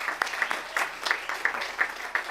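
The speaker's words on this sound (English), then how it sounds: "We'll have one more round of applause for the team." A brief round of applause at a school board meeting for the 2022-2023 Suffolk County champion girls varsity basketball team, with fairly quiet, distinct claps in a loose rhythm.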